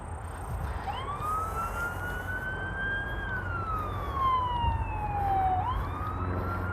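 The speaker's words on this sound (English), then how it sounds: "Got an ambulance coming." An ambulance siren wails in a rising and falling sweep, passing at a moderate distance over steady traffic rumble, clear and continuous for several seconds beside an abandoned car dealership lot.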